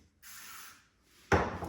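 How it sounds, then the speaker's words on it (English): Hairspray hisses onto freshly back-combed, shoulder-length bob hair in two short bursts, a softer spray followed by a louder, sharper one, close up with no talking. "I love to spray a little after I back comb"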